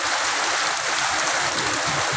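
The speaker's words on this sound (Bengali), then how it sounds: "বর্তমানে এখন প্রচুর বৃষ্টি হচ্ছে মনে হবে যেন ঠিক এটা বর্ষাকাল" Heavy afternoon rain pours down in Satkhira, a dense, steady, loud hiss of water on surfaces with no let-up and no voices.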